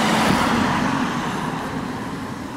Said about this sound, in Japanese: 結構交通量昼間はありますね。